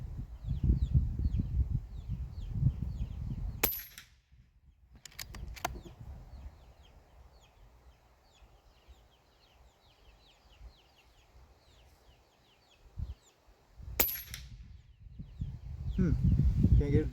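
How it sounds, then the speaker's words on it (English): Several sharp shots from a .25 caliber Air Venturi Avenger air rifle, a cluster of distinct cracks spaced a few seconds apart. Steady outdoor background noise and faint bird calls run beneath them. "I'll shoot another group and see what's going on."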